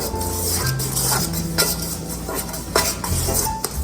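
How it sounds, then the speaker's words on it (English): Shaggy pizza dough is mixed with flour and two teaspoons of salt, heard as close scraping and stirring with occasional clinks of a utensil against the bowl and no talking. "Now we're gonna do 2 teaspoons of salt. Mix that in."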